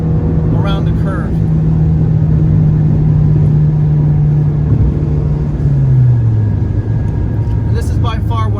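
An Abarth car with a new hood vent accelerates through a sweeping curve on a Florida loop, its engine a steady, loud droning rumble that rises gradually in pitch, heard from inside the cabin with road noise throughout.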